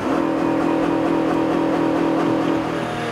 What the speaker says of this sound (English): That is the computer not allowing it to rev any higher than that.